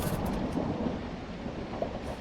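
Heavy rain pours steadily during a thunderstorm, heard from inside a caravan on a hot night, with a continuous dense hiss and low rumbling that stays loud and even throughout.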